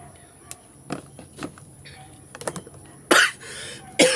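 Two sharp, fairly loud coughs close by, the second a moment after the first, following a stretch of quiet clicks and taps.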